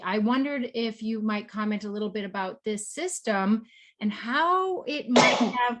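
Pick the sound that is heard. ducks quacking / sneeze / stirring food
sneeze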